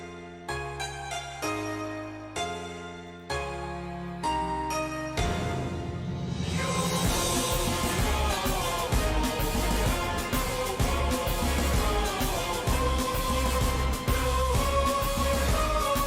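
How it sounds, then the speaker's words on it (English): Non-copyrighted wrestling theme music plays back, opening with a few punchy staccato stabs and pauses, then launching into a full, dense, driving track at steady volume for the rest of the clip. "I'm gonna take a moment to give a sneak peek of some of the wrestling themes"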